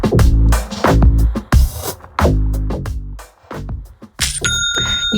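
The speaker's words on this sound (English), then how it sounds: "That is the sound of another sale on Shopify" A Shopify new-sale notification sound plays as a series of bright, percussive dings in quick bursts, ending in a sustained ringing chime. It is loud and close, with no talking.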